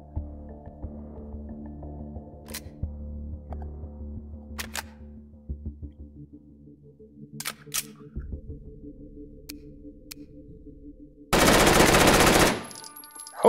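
Submachine gun fire from a TMP in the VR shooter H3VR Take and Hold, sporadic clicks and handling sounds building to a loud, dense burst of automatic fire near the end.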